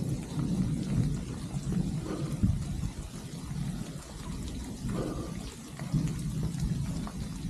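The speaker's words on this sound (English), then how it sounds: "Thunder." Thunder rumbles low beneath steady rain during an extreme-weather storm on a New Zealand cycling trail, a continuous close wash of rainfall with deeper booming swells rising and falling throughout, no voices.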